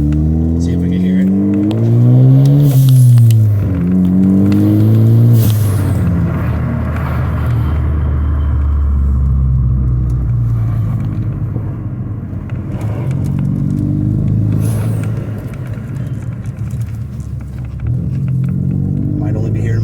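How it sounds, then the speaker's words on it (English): A 2015 Ford Focus ST fitted with an NGR Type S blow-off valve revs up loudly nearby, engine rising and falling a couple of times before settling into a lower rumble, with someone talking over it. "I just got the NGR Type S blow-off valve put in"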